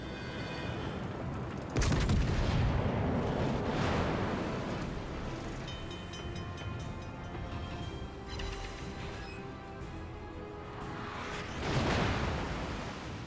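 Heavy naval guns boom in the World of Warships video game, a loud burst of broad blasts with rumbling decay, followed by another heavy salvo near the end over a continuous game soundscape.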